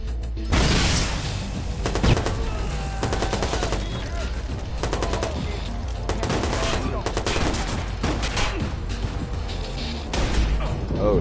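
Sniper and other gunfire in the open-world game Watch Dogs, a busy stretch of repeated sharp shots and bursts throughout, loud and layered over game background noise.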